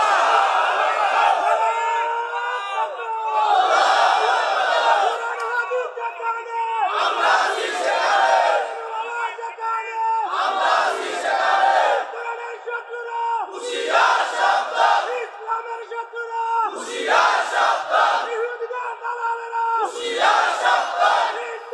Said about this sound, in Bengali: একটু হাত উঁচু করে একটু তাকবীর দেন।